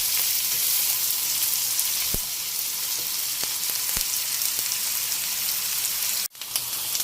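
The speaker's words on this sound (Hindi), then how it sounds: "प्याज हमारी यहाँ फ्राई हो रही है।" Onions frying in a pan for a ridge gourd (turai) sabzi, with a loud, continuous hiss of sizzling oil, a few sharp crackles and pops, and a brief dip near the end.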